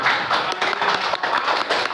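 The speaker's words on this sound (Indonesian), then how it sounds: "Tepuk tangan untuk kita semua." Classroom applause in a primary school lesson, steady clapping from a group of children filling the whole moment, fairly loud and continuous with no speech over it.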